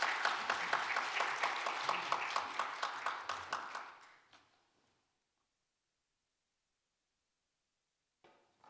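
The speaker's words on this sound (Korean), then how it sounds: "박수로 격려 부탁드립니다." A church congregation at a Wednesday worship service claps in encouragement, a steady, fairly even round of applause that fades out after about four seconds into near silence.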